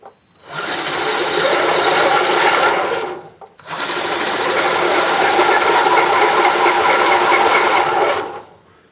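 BB-8 droid motors spinning on bearings give a steady, smooth high whirring, running in two sustained bursts separated by a brief pause, loud and close with no talking.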